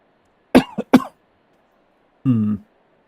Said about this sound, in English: Sorry about coughing.